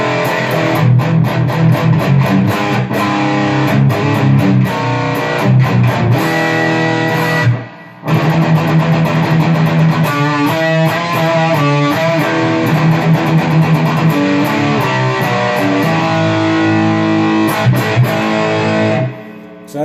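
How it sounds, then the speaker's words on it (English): Heavily distorted electric guitar through the high-gain brown channel of a Boss Katana 100W head, gain near three-quarters, chugging riffs and chords played loud and dense for about twenty seconds, with one brief gap near the eight-second mark. "The last channel here is the brown channel, which is their high gain."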